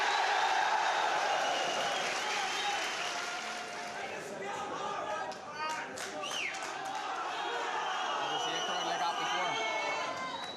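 Noisy crowd at a boxing media tour for Carl Frampton versus Scott Quigg, a continuous roar of chatter, some clapping and cheering, with sharp bursts midway and voices talking within the din.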